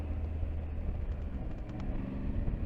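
An Aprilia Tuareg 660 motorcycle engine under throttle at just under 3,000 RPM, a low, steady rumble heard close amid wind noise for a couple of seconds.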